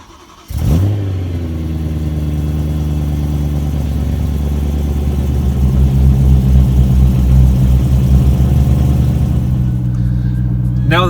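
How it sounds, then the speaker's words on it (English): A BMW M3 V8 from the E90/E92/E93 generation cranks and catches with a sharp start, then settles into a steady, deep, close-up idle rumble that holds for several seconds. "Now that the engine is running"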